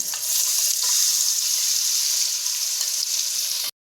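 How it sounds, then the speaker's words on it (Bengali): Cashew and melon seed paste sizzles steadily in hot oil in a pan as it is stirred, a loud, continuous close frying hiss that cuts off abruptly. "এটাকে আমি আবার নাড়াচাড়া করে নেবো ভালো করে তেলের সাথে এটা একটু কষা হোক"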